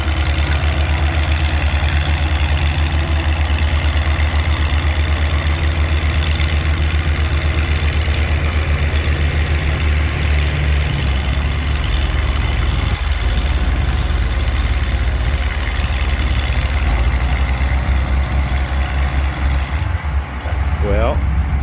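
An antique tractor roars at full throttle during a tractor pull, a loud, steady, low engine drone holding for over twenty seconds with crowd and announcer voices faintly mixed in.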